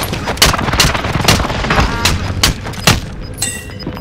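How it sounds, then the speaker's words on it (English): Rapid bursts of video-game airstrike gunfire and explosions crackle in loud, irregular volleys, some sharp reports rising above a dense battle din. "Precision airstrike missed."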